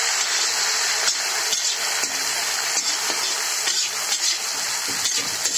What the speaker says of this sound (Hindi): अब हम डाल देते हैं इसमें जो टमाटर और हरी मिर्च अदरक काट के रखी है